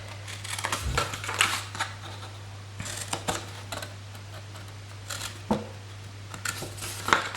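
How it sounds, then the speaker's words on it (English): Scissors cutting card along score lines for a handmade gift box: a series of short, crisp snips in irregular bursts, close up, with a faint steady hum beneath. "Now I'm going to cut up these lines here, here and here, so on both sides."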